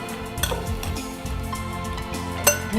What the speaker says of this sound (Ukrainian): І ще раз вимішуємо.